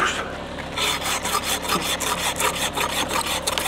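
Saw cutting through birch wood, a rapid rhythmic rasp of back-and-forth strokes, close and loud throughout with no talking.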